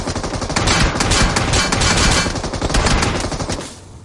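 An M249 machine gun fires in the BGMI battle royale game, a loud, dense burst of rapid automatic shots lasting several seconds before tapering off, with no talk over it.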